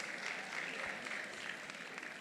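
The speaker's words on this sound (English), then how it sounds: "A round of applause for the Chief Sparkler of Sparkle FB, Uzoma Dozier." Audience applause for a panelist called to the stage at a financial plenary session, a dense, steady wash of clapping that holds at an even level for a couple of seconds, fairly quiet and distant.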